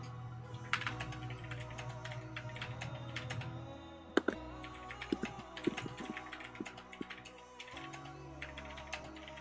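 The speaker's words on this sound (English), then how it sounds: "I hear a lot of typing, Garth." Typing on a computer keyboard, quiet and close, with irregular bursts of sharp key clicks and occasional louder strokes over a low background hum.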